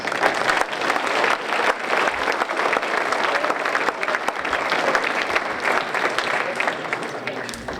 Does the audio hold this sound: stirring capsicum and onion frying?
no